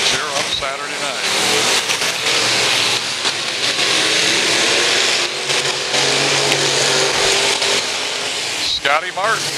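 B-Mod race cars roaring around the dirt oval at Valley Speedway on a Saturday night during the final laps, a continuous loud engine wail under an announcer's commentary.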